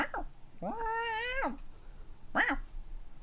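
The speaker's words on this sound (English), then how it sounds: "Mad Cat jumps on my bed." A cat in the video game Hello Charlotte gives a drawn-out meow and then a second, shorter meow, both close and clear over a low background hum.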